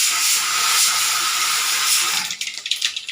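Mustard seeds hitting hot oil in a kadai on the stove give a steady, loud hissing fizz that breaks into quick scattered pops and crackles near the end. No one speaks.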